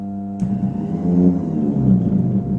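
A small transformer-powered motor with a chuck kicks on abruptly after a short hum and spins at very high speed, a loud steady whine and rumble that wavers slightly as it runs, with no voices.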